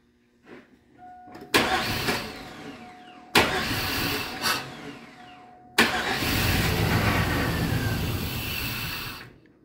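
An old truck engine is turned over with the key, cranking in several loud, abrupt bursts before catching and running steadily at a rough, rumbling idle close by.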